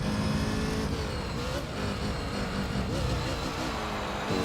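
Raybrig NSX race car in Gran Turismo 3 during an All Japan GT Championship race, its engine droning loud and steady throughout with shifting pitch as it revs through corners.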